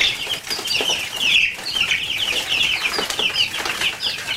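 A big brood of baby chicks, about eighteen fuzzy birds in an indoor pen, peeping steadily and densely at close range with bursts of wing flutter, and no voices.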